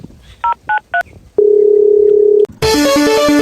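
A telephone keypad sends three short dialing beeps, then a steady dial-style tone holds for about a second, followed by a brighter ringback-like tone as a call is placed, loud and close with no voices.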